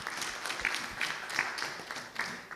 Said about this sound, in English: Give applause for a very hot discussion.